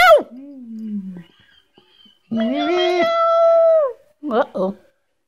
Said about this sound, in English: Ow, attack of the killer cat.